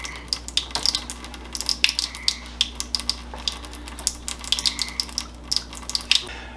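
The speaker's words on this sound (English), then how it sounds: "open the faucet and let the pressure drain out" Water runs from the faucet of an AO Smith AO-US-RO-4000 reverse osmosis system as its pressure drains, a steady close stream broken by irregular splashes and drips over a low hum.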